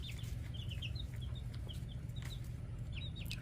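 Chickens clucking in a backyard coop, repeated short clucks and chirps from several birds close by over a low steady background rumble.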